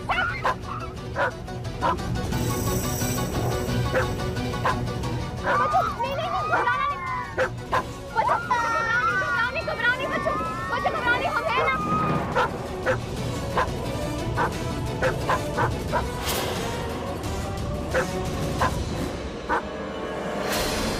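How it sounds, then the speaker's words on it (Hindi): A dog growls, yips and whimpers over a long stretch, with repeated sharp yelps and whines over an underlying dramatic score. "ये कुत्ते के घुराने के आवाज तुम निकाल रहे हो ना?"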